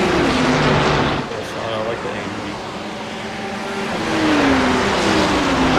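A loud BMW GT3 race car engine in a racing video game at Road Atlanta drones and revs continuously, pitch rising and falling through gear shifts, with a voice talking over it.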